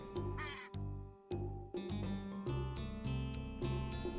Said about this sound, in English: A crow was hanging around the dinner table, looking for scraps